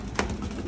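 A pigeon at a breeding loft gives a single short, low coo up close, brief and soft against quiet background hiss.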